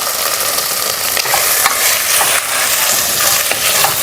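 Mint leaves sautéing in a pan for karamani biryani, a steady close sizzle with scraping stirs every second or so, continuous and alone without any voices.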